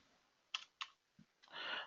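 A few keystrokes on a computer keyboard as a Linux user-add command is typed: two sharp clicks, a soft low tap, then a longer burst of rapid key presses, close and fairly quiet with no talking.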